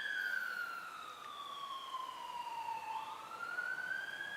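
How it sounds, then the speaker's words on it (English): A fire engine leaving a nearby fire station sounds its wailing siren, which sweeps down and back up in pitch, steady and fairly loud throughout with no talk. "there's a fire engine going out"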